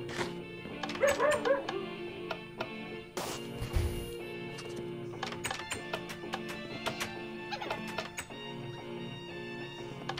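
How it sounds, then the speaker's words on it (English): A dog in the Minecraft video game lets out repeated short yips and barks over game sound effects and background music, fairly close and moderately loud. "Look at this dog."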